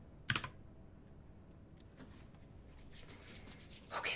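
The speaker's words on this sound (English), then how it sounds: "right now I'm typing and nothing is happening" Computer keyboard typing at a desk while coding a web page: two short clattering bursts of keystrokes, one near the start and one at the end, with a quiet pause between them.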